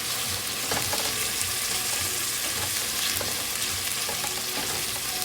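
Ginger, garlic and spices such as cardamom fry steadily in a pan for chicken curry, a close, continuous sizzle with faint scraping from stirring and no talk.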